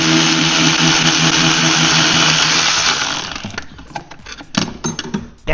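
A loud power tool whirs steadily for about three seconds while removing brake bolts on a Porsche Cayman, then winds down into rattling, clicking mechanical noises.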